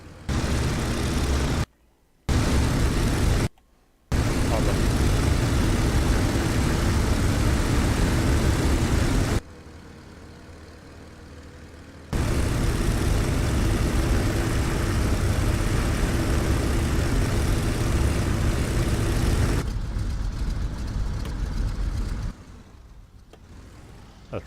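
Steady drone of a propeller airplane engine, loud and close, with brief cutouts and a quieter stretch where the tone shifts before the roar returns.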